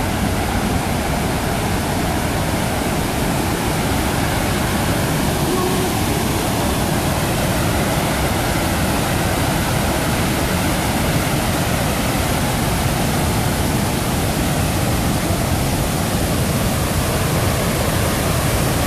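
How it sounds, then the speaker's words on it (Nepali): Large waterfall at Akron Metro Park, Ohio, roaring as a loud, dense, steady rush of falling water, unbroken and close throughout. "यहाँ ठुलो झरना छ"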